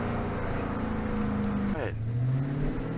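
A Dodge Charger Daytona 392 floored from low speed, its engine note climbing, dropping briefly at a shift and rising again, heard from inside the car, loud and continuous.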